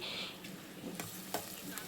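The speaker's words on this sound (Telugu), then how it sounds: "ఆ పొట్టును మొత్తం ఈ తాలింపులో వేసేయాలి" Bitter gourd peel dropped into hot oil tempering, a quiet steady frying sizzle with a few soft stirring scrapes, heard close with no speech.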